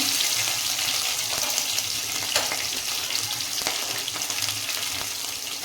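Curry leaves and two green chilies hiss and crackle in hot oil for a North Karnataka-style roti oggarane tempering. The sizzle is loud, close and steady throughout, and no one speaks.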